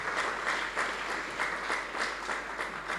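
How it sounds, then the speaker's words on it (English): An audience at a conference on AI and robotics gives a round of applause, a dense, steady clapping that carries on evenly for a few seconds with no talking. "a big round of applause for you as well"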